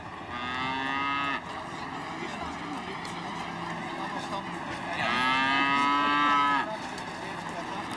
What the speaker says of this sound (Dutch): De koeien doen ook mee.